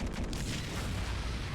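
Bomb blast in the video game Super Bomberman R Online, a dense, loud booming rumble that fills the whole short moment without a break, heard alone without talk.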